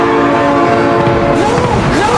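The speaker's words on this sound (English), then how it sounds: "Oh my god, train!" A train horn in the BeamNG.drive driving game, sustained tonal blasts held over steady game noise and rumble throughout, loud and close.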